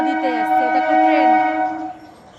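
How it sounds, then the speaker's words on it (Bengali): A train on the Berhampore to Kasimbazar line sounds a loud, sustained horn blast that glides slightly and then fades as it passes. "এটা বহরমপুর থেকে কাশিমবাজারের দিকে ট্রেনটা যাচ্ছে।"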